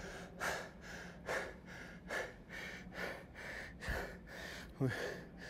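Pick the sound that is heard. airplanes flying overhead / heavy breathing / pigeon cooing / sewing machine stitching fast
heavy breathing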